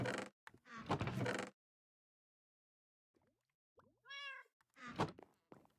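A cat in the Minecraft video game meows with short, bright tonal calls near the end, following loud broadband bursts and a quiet gap, with small game noises around it.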